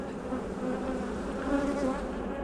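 Aggressive, flighty honey bees at a hive and its split make a loud, thick buzzing that swells slightly with passing bees, close up and continuous, with no one talking.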